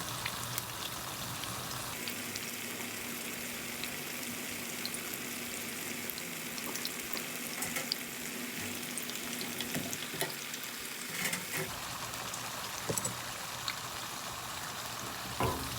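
Cauliflower florets for a crispy spicy sweet chili appetizer frying in a pan, a steady dense sizzle and crackle running throughout with occasional louder pops, close and with no talk.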